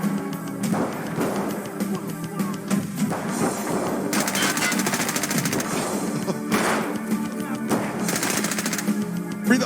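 Rapid bursts of video game gunfire crackle almost continuously, loud and dense, with heavier volleys recurring through the clip and a mixed game soundscape underneath.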